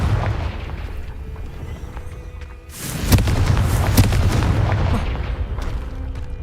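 A Confringo blasting spell in Hogwarts Legacy erupts partway through as a loud, sudden explosive burst, then rumbles and crackles on over steady background game noise.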